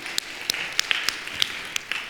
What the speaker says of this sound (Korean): 주님께 감사의 박수 올려드리겠습니다